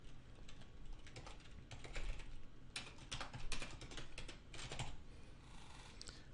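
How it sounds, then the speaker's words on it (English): Rapid typing on a computer keyboard, with bursts of close, crisp key clicks that speed up and pause in uneven clusters against a quiet room. "I'm going to type my name"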